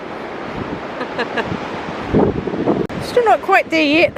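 Wind buffets the microphone and surf rolls in on a cold, windy beach with large waves, a steady roar under a man's nearby speech.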